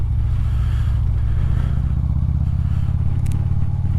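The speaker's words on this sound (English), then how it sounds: "A little bit of wind noise inside the helmet." Wind roaring inside a motorcycle helmet while riding, a constant loud low rumble and rush with the engine droning underneath and a faint brief rattle near the end, with no speech.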